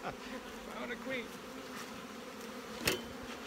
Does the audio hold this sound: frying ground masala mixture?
no